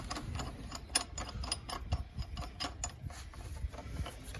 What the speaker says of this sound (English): now I'm going to try using my dent removal tool